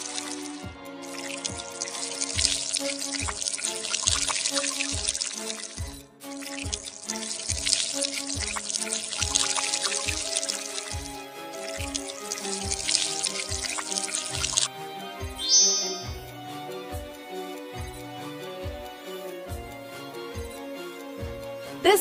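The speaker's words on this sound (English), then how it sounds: "You can see the water coming out from the bottle." In an Android water science experiment game, water gushes from an opened bottle as a long, bright hissing pour, set over a regular, plinking rhythmic beat that keeps going after the flow stops.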